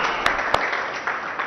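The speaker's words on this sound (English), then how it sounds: "they deserve a huge round of applause from all of us" An audience at a formal gathering applauds in a steady, moderate wash of clapping, with a couple of sharp louder claps standing out near the start.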